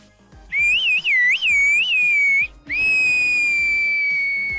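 Turkish mountain farmers whistle a message in their whistled language: a loud, piercing melodic whistle that warbles up and down in several bursts, then holds one long steady tone alone in open air.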